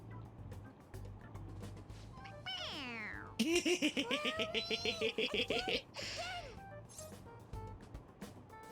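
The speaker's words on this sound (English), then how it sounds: "It meows when you press on its head." Stuffed toy cat from Persona 5 Royal giving a string of electronic meows when pressed, several rising and falling cries in quick succession, with a rapid pulsing burst in the middle over a low game background hum.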